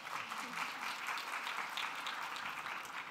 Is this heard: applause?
yes